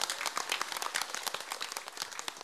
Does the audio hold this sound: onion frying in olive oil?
no